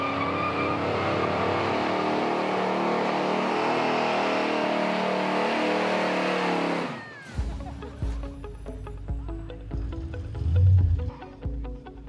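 A 1940 Coupe Deluxe with an H&H flathead engine idles with a steady rumble and then revs in sharp bursts once it stops, close up, with a faint voice under the engine.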